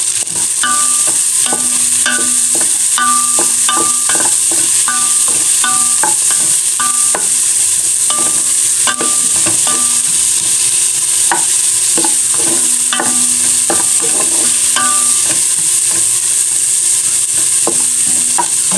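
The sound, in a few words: garlic and onion sautéing in a pan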